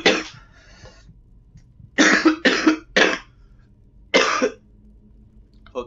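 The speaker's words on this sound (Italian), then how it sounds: "questa tosse è proprio brutta" A person coughs in harsh bursts, one alone, then a quick run of three, and one more, close and loud with quiet pauses between.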